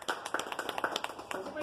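Clapping for a pigeon fancier at a Mumbai gathering, a short burst of sharp, quick hand claps from a small group, fairly faint and close together.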